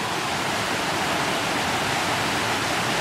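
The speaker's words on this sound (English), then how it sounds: "This is what Maria has done to our waterfall." A waterfall left damaged after Hurricane Maria pours with a continuous, even rush of water, loud and unbroken, with no one speaking.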